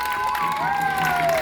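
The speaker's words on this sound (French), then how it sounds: "On applaudit très fort Achepe Nguessan André." An audience at a church pilgrimage children's dance event applauds, dense steady clapping filling the moment while a voice speaks over it.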